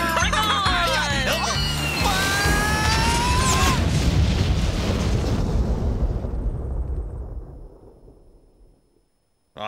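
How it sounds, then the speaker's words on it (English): A loud, dense explosive roar with crackling bursts and whistling streaks, swelling under excited voices, then fading away to silence near the end. "I didn't agree to pay for any fireworks"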